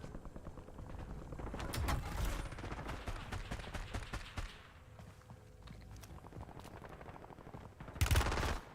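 Rapid automatic gunfire and single shots in a video game firefight, dense bursts crackling over the whole stretch with footsteps and a loud closer volley near the end.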